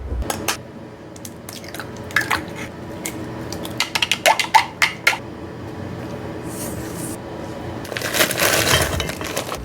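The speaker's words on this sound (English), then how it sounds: "now I'm gonna put 2 eggs in there, mix that up" Two eggs are cracked into a bowl of melted batter ingredients for raspberry muffins and mixed by hand, with sharp taps and clicks, wet squishy strokes and a louder, rougher stretch of mixing near the end, close up.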